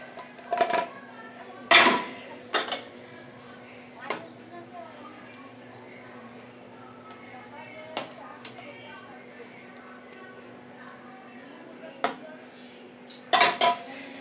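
A cooking pan holding papaya and paneer curry is lifted off the stove, giving scattered metallic clanks and scrapes against a low kitchen hum, with a cluster of sharper knocks near the end.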